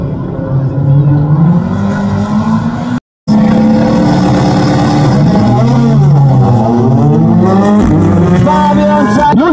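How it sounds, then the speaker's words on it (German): BMW M3 rally car at a rally event in Weiz, racing through a chicane with loud engine revving and shifting pitch, a brief cutout midway, commentary voice over the roar. "Mit dem BMW M3, der hier durch die Schikane flitzt."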